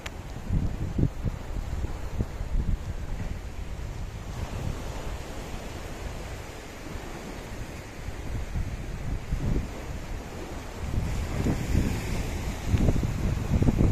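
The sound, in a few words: water waves around Mousuni Island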